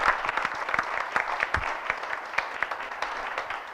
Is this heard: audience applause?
yes